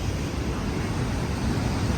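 Water pours through an opened gate of the Kadem dam in a loud, continuous, close roar that holds steady without pauses, with no voices over it.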